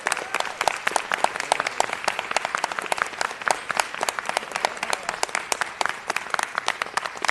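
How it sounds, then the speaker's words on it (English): An audience at a city council meeting bursts into sustained applause, with many hands clapping together in a loud, dense patter that lasts throughout and has no speech over it. "I would like for you to give a round of applause"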